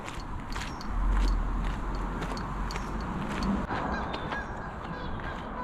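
Several geese honk at a distance in a steady chorus at a reservoir, with occasional louder calls standing out over a murmuring background.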